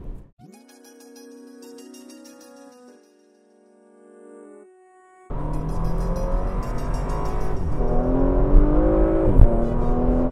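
A Porsche Macan with a 2-litre direct-injection turbocharged inline-four drives along. Its loud, steady engine and road noise come in after a quieter opening of music-like tones.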